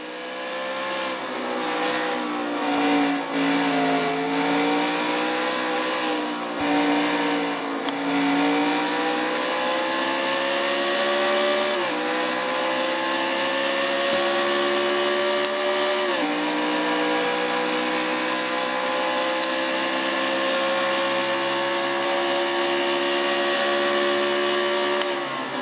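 A NASCAR Nationwide Series stock car laps Road America, its loud engine screaming continuously close up, the pitch climbing and then dropping sharply at several gear shifts, with no voices over it.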